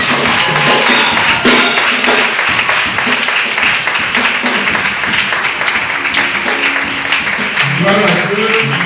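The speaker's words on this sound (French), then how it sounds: "On applaudit le Seigneur." Loud, sustained applause and clapping fill an ordination ceremony for a prophet, a dense crowd of hands running throughout with voices mixed in underneath.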